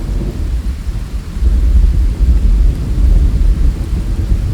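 Loud, enveloping thunderstorm from the NatureSpace app's Thor soundscape: deep rolling thunder swells partway through over a constant wash of heavy rain, with no voices.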